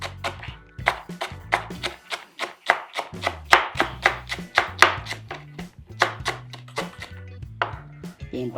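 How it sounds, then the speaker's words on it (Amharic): Onion chopped with a knife on a board, a steady run of sharp thuds with short pauses between bursts, loud and close with no talk. "ሽንኩርቱን ከትፋው እንደዚህ አድርገን"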